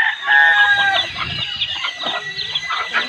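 Chickens at a bamboo-fenced coop cluck loudly and close by, with a rooster-like call near the start and busy overlapping clucks throughout.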